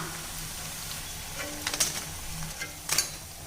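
Ragi thattai crackle as they fry in hot oil, pressed down with a ladle, a steady low sizzle under a few sharp metallic scrapes and taps of the ladle, no speech.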